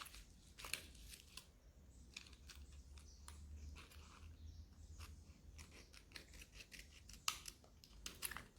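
Scissors snipping yarn for an amigurumi doll, faint close clicks and cuts scattered irregularly over a quiet background with a low hum.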